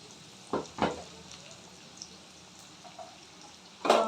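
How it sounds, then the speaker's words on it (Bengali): Onion and green chili fry in a pan for a fish-head and pui greens dish, with a few scraping stirs and a crackle of sizzling, loudest near the start and end, no talking. "পেঁয়াজটা দিয়ে একটু নাড়াচাড়া করব।"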